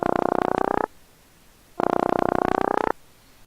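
A synthesized pulse sound plays from a phone in two bursts of about a second each, a rapid buzzing train of clicks separated by a brief quiet gap.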